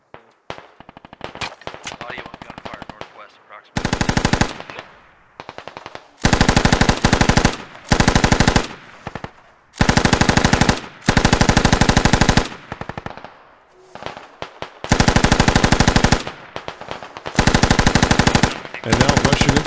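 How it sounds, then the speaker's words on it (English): Heavy machine gun fire from a BTR armored vehicle in the military shooter game Squad, loud sustained bursts of rapid automatic shots separated by brief pauses, with scattered gunfire around them. "That's the BTR opening up on the position."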